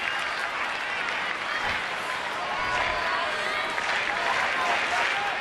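Baseball stadium crowd of about thirteen thousand at a Twins at Orioles game applauds steadily, a dense wash of distant clapping and murmur with a commentator speaking over it.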